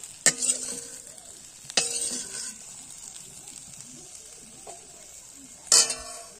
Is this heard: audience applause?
no